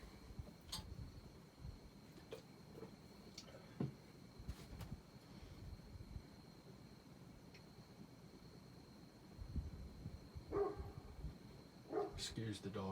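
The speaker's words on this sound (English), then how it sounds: "Excuse the dog barking." A dog barks in short, scattered bursts at a moderate distance indoors, with quieter gaps between barks and a few louder ones toward the end, set over a low steady room hum.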